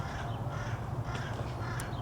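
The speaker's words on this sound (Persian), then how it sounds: "صدای کلاغ میاد" A crow caws a few times in the distance over a steady outdoor rumble of background noise.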